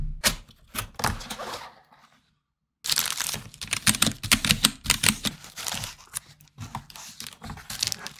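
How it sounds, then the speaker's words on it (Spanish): A white GamaKay K66 mechanical keyboard with 66 keys is typed on up close, its clicky keystrokes tapping in quick uneven bursts with a brief pause partway through and no talking. "Teclado tan bonito de color blanco es un teclado mecánico modelo Gamma Key K66."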